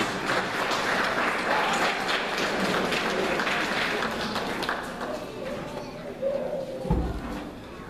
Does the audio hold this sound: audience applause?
yes